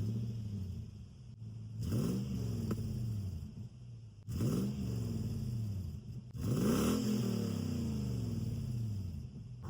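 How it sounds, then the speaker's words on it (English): A 2004 Toyota 4Runner V8 with an exhaust leak at the headers, idling with a steady rumble, then revved three times in rising and falling bursts of engine roar, close and loud. "I'll do some rev clips for you at the end just so you guys can hear it."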